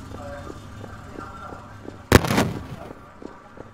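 A single sharp missile blast in a chaotic soccer video game cracks out mid-clip with a short rumbling tail over a low game hum.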